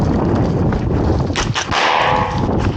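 An airsoft grenade bursts during an outdoor skirmish game, a short sharp pop and hiss amid dense rustling, footsteps and field noise.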